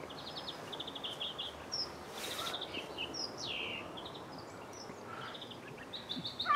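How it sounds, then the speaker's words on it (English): Several birds sing and chirp in a garden, with repeated bright, high-pitched phrases scattered throughout over steady outdoor background noise, with no talking. "Birds singing."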